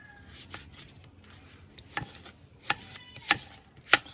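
Fish is cut up for the pot outdoors, making a handful of sharp, uneven knife chops and taps spaced out over a quiet background.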